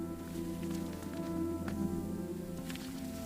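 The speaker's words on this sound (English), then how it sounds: "the rain is so cool" Rain falls steadily outside during a road trip, a soft continuous patter and hiss with a low hum underneath and occasional faint taps, close and even throughout.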